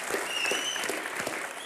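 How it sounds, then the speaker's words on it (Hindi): Studio audience on a Hindi comedy talk show claps loudly and steadily in a thick wash of applause that carries through the whole short stretch, with faint whoops mixed in. "अनिल सर के लिए तालियां होनी चाहिए।"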